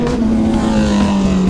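A new Kawasaki ZX-10R motorcycle engine revs in a loud, close, steady drone that holds a sustained pitch for a brief moment.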